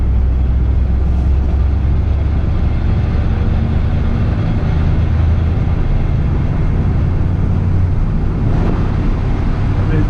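An old, torquey truck engine pulls in third gear from about 20 mph, a loud, steady low rumble heard from inside the cab with road noise and no break in the drone.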